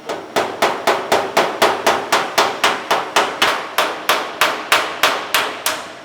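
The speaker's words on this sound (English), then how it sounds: "we're gonna go back and planish all the welds out all the way around this thing" Hammer planishing welds on sheet metal in a fabrication shop, about twenty sharp, ringing blows at a steady, brisk pace, loud and close with no talk.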